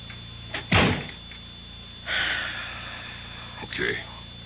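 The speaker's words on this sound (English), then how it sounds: "shut the door." Door being shut as a radio drama sound effect: a sharp close thud near the start, followed by softer sliding and rustling sounds with brief breaths between.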